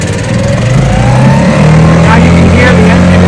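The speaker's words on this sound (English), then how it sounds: "Now you can hear the engine is in a high rev, the gas is on too high" A boat engine catches and revs up to a high, steady drone, loud and close, with rising harmonic whine.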